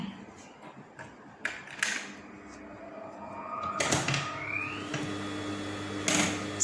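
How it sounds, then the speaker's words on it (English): Sewing machine running a straight stitch near a magnetic seam guide, with fabric handling and clunks at first, then a rising motor whir and steady mechanical running, close and moderately loud. "I'm going to demonstrate just the straight stitch simply"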